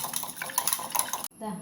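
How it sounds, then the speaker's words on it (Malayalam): Quick, rhythmic clinking of a whisk beating eggs in a bowl, close and fairly quiet, with a person speaking over it before it stops abruptly. "ഇതുപോലത്തെ ബീറ്റർ ഉപയോഗിച്ച് ജസ്റ്റ് ഒന്ന് ഇങ്ങനെ ബീറ്റ് ചെയ്തെടുക്കാം കേട്ടോ"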